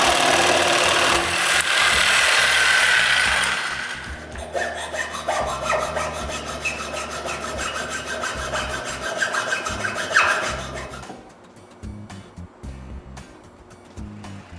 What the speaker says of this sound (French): J'ai également une coupe spéciale que je fais à scie sauteuse.